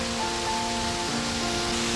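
A winter waterfall on the Bruce Trail along the Niagara Escarpment in Hamilton gives off a steady, unbroken rush of falling water that fills the whole clip at an even level.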